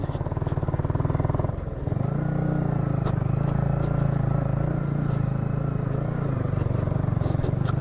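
Motorcycle riding along a road, a steady near engine drone with a low throbbing hum that shifts in pitch after a moment, continuous throughout with faint rattles.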